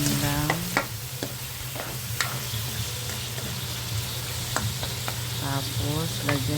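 Chicken sizzles and fries in a pan while being stirred, a steady hiss with scraping strokes throughout, and a voice speaks briefly over the cooking.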